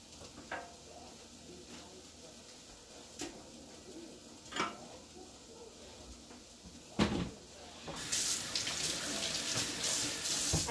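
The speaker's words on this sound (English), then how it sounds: "So while I'm waiting on that to cook, I'm just going to clean up. Clean everything out of my sink." Kitchen cleanup at the sink: scattered knocks and clatter of dishes and cupboards, then a kitchen tap runs in a steady loud gush for the last few seconds.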